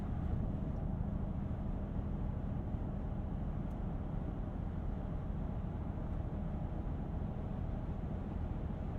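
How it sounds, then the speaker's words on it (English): Steady wind rush inside the cabin of a 2023 Toyota Tundra TRD Pro at road speed, a constant broadband roar with low rumble from the road, unbroken and without speech for nine seconds. "Definitely have wind noise."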